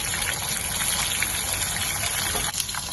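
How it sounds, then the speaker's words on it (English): Water gushes steadily into a cooking pot, filled for boiling at the stove, a continuous close rushing pour with no speech. "At the other side, we boil a pot of water."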